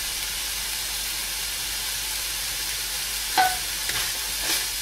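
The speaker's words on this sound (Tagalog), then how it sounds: "continue lang natin yung paggisa" Pork cubes and pepper sauté in a pan for fresh lumpia, giving a soft, even sizzle with a few scraping stirs near the end and no talking.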